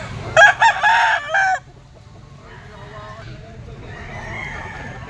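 A two-year-old yellow-legged banderado gamefowl rooster of Sweater Kelso bloodline crows once, loud and close, in a broken multi-part call, followed by quieter background noise and faint clucking.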